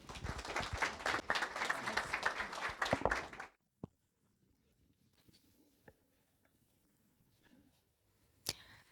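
Audience applause at an evening talk on generative artificial intelligence, a dense burst of clapping from a crowd lasting about three and a half seconds, then cutting off into near silence with a few faint knocks and shuffles.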